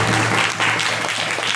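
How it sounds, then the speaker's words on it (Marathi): An audience at a Marathi kirtan gathering claps together in a steady, fairly loud burst of applause lasting the whole moment, with no clear speech over it. "मोकळ्या मनानं टाळ्या वाजवा."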